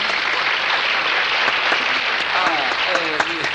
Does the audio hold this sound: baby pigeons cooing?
no